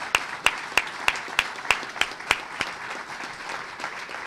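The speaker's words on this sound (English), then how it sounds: "We got to give him a special round of applause." Sharp, evenly spaced claps ring out at an event on the Seattle waterfront, honoring former mayor Charles Royer. About a dozen single hand claps are heard close up with a soft crowd murmur underneath, thinning out toward the end.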